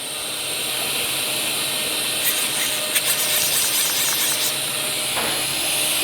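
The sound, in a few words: nesting CNC machine moving, driven by hand wheel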